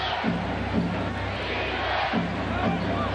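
A dense Madison Square Garden crowd at a 1997 Knicks–Hornets playoff basketball game roars steadily, with surges of shouting urging Ewing to shoot.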